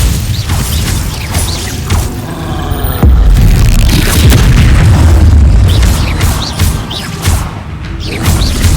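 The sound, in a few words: Glacius spell cast in video game Hogwarts Legacy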